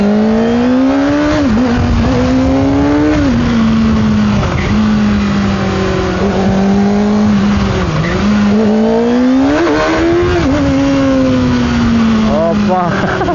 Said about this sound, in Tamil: ஆனால் இது எக்ஸாஸ்ட் போடல, ஸ்டாக் 6R தான்.